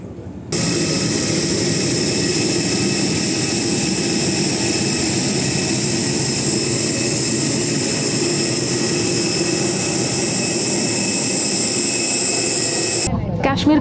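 Inside the cabin of a passenger plane on a connecting flight to Srinagar, the engines give a loud, unbroken drone with a steady whine layered over it. The sound continues evenly from start to finish, with no clear speech.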